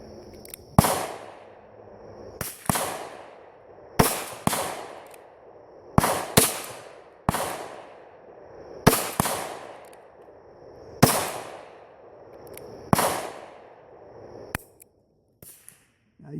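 .38 Special pistol loaded with Clay Dot shotshell powder fires about a dozen sharp, loud cracks at irregular intervals, each with a short echoing tail outdoors, the last few fainter pops near the end.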